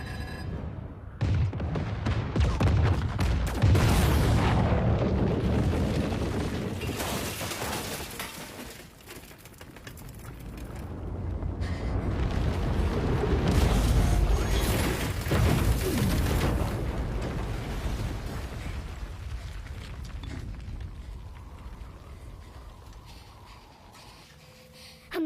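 Thermal mines detonating in an action movie, a long rolling roar of heavy explosions that swells, dips and swells again over deep rumble, loud and sustained with no talking.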